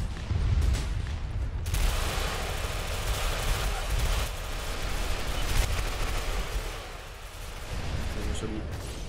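Dense bursts of gunfire and explosions in a multiplayer shooter game, a busy clatter of shots over a constant low rumble, with occasional louder blasts standing out.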